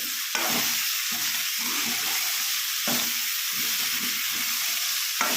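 Raw banana and tomato curry being stirred in a pan over steady frying sizzle, with soft scraping strokes of the spoon repeating every second or so, close and moderately loud, no talking.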